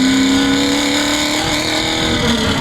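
A '68 Camaro V8 with Hooker Blackheart long-tube headers, 2.5-inch exhaust piping and Venom 250 mufflers runs loud and close, holding a sustained, rising rev with a deep rumbling exhaust note.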